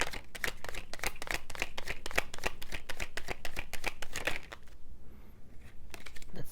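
Tarot cards shuffled in quick, dense riffling bursts, close and steady, with a short pause before the shuffling resumes.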